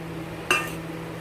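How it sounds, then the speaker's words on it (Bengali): A utensil stirring chicken with spices and goat fat in a clay kadai gives a single bright clink against the pot over a low steady background hum. "দিয়ে এটাকে আমরা ভালো মতো করে নাড়াচাড়া করে মাংসটাকে আমরা কষবো"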